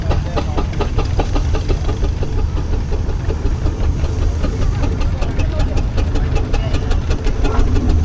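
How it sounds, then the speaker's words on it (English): Steam engines chuffing and rumbling in a show arena at a rural rally, a loud, continuous low throb with rapid rhythmic beats building toward the end, under crowd ambience. "Now they've got to try and clear the arena of steam engines."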